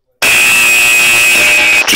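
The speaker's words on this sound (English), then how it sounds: "That buzzer means it's closing time and we all have to clear out within 5 minutes" A loud, steady electric buzzer in a 1950s bar drones continuously, signalling closing time, starting abruptly after a brief silence and holding for nearly two seconds.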